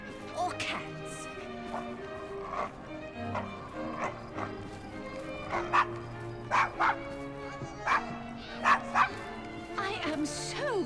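A dog in Assassin's Creed Syndicate barks and yips in repeated short bursts, with whimpering between them, over game music and character dialogue.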